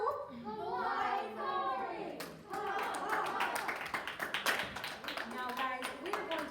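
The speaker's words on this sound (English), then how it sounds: "Let's give him a big round of applause." Classroom applause for a student named Kai, a short burst of clapping from a group of kids that starts partway through, with children's voices chattering over and around it.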